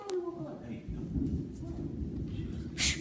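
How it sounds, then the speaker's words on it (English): Thunder rumbles low and heavy through a house during a severe storm, with rain noise behind it and people talking quietly over the top. "that storm might wake her up"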